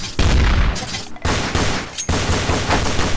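Rapid bursts of gunfire from a Desert Eagle and a MAC-10 in Counter-Strike: Source on the Dust 2 map: loud, dense automatic fire in three clusters separated by brief gaps, with no talking.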